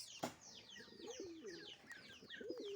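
Pigeons being fed, coos and chirps overlapping in a steady, close, moderately loud flock chatter lasting the whole stretch, with a sharp tap near the start.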